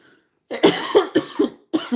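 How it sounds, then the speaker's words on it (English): A run of harsh, close coughs comes in three quick clusters, loud and chesty, with short pauses between. "excuse me for coughing"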